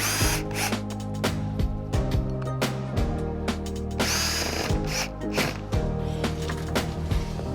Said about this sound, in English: These are countersunk screws, so screw them in so that the head then just disappears into the timber a little bit.